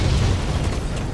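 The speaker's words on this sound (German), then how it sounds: "Oder ich wurde von der Explosion deines Mechs gekillt" A mech blows up in the video game Blacklight: Retribution, a dense, loud rumbling explosion with a heavy low-end roar that fills the moment without any voices.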